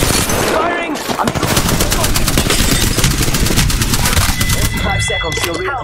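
Rapid automatic gunfire from the shooter game Apex Legends rattles in a dense, loud, sustained stream over the battle soundscape. A voice is heard shouting underneath.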